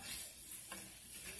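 Steak and vegetables frying in a pan, a steady soft sizzle with a brief scrape of stirring partway through.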